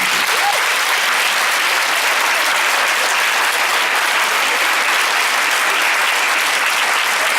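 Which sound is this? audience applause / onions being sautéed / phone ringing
audience applause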